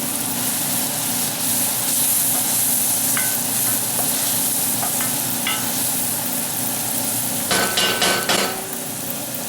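A roux of flour and oil for a beef roast cooks in a pan with a steady, close sizzle, and a burst of clinking stirring or scraping comes near the end.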